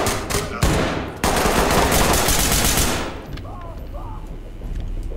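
Rapid automatic gunfire from a Ready or Not tactical shooter match rattles loudly for about three seconds in dense bursts, then stops, leaving quieter ambient game noise and faint voices.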